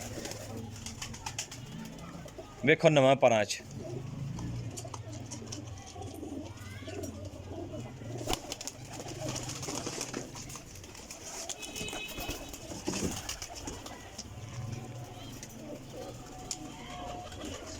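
Rampuri pigeons coo softly nearby amid general bird sounds, with a brief louder flutter early on and someone talking intermittently throughout.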